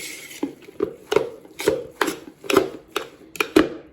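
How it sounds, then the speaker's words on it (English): Potato latke mixture with salt being stirred in a bowl, a series of about eight sharp scraping knocks at a steady, slightly irregular rhythm, close and fairly loud with no talking. "give this another stir"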